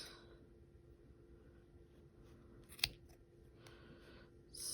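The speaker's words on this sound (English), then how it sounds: "I am going to cut all the rest of the loops" Scissors snip through yarn loops of a knitted pom pom, a faint quiet setting with one sharp close cut standing out and a few softer snips around it.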